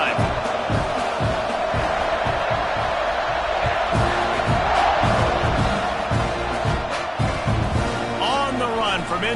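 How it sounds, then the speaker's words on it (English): A football stadium crowd at an A&M game roars and cheers loudly and continuously, a dense wall of voices with whoops and shouts throughout. "this crowd is feeling themselves after that last drive"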